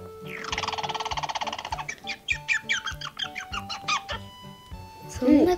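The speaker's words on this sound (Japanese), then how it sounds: "そしてリスです。" A squirrel call played back by a smart speaker, a rapid chattering trill followed by a string of sharp repeated chirps and squeaks, fairly close and steady, with a brief voice at the end.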